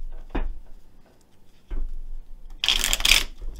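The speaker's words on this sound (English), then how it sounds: "I'll just do a few shuffles here before we start drawing" Cards are riffled in short bursts, two soft quick shuffles and then a louder, longer flurry of cards snapping together close by.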